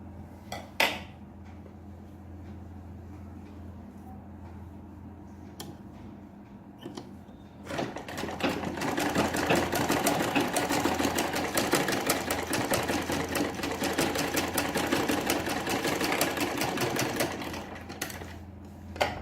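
A sewing machine stitches a kurti along a paper strip, starting after a few scattered clicks and handling sounds, then running in a steady, fairly loud continuous whir for roughly the last ten seconds.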